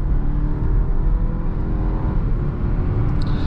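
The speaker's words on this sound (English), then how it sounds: "just so you can see the acceleration one more time, because it really is strong" A Volvo S60 Recharge Black Edition accelerates hard, heard from inside the cabin as a loud, steady low engine and road roar that holds without a break.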